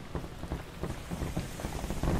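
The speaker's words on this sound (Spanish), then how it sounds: "Vale, está lloviendo ahora mismo." Rain falls in the video game Farworld Pioneers, a soft, steady patter of drops at a fairly low level, with no talk.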